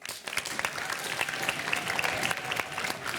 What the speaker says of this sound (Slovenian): Še en velik aplavz za Mariborčane.